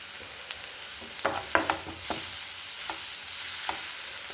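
Ingredients for a sardine roast are sautéed in a pan, with a low continuous sizzle broken by several sharp scraping and tapping strokes of a spatula, close and moderately loud.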